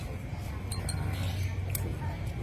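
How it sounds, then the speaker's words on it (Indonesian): A spoon stirs liquid in a glass after a few drops are added, giving a handful of light, quick clinks against the glass over a faint steady background hum. "Kita aduk ya."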